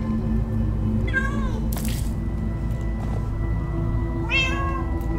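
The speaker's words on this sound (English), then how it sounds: "Many cats! So many cats!" Several cats meowing in the Minecraft Story Mode video game, two distinct meows rising over a steady low background hum, with a brief splash-like burst between them.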